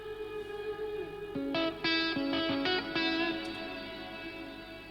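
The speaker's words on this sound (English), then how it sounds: "Very shimmering reverb there." A shimmer reverb from the MTurboReverb plugin washing over a sequence of synth notes, each new note layered on a lingering, bright, sustained tail with high octave sparkle, the chord smearing into a long fading wash.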